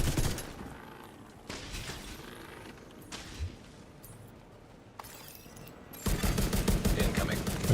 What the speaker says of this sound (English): I'm just shooting in the rifle into the ground